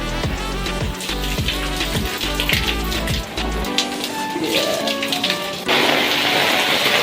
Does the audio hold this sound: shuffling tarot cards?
no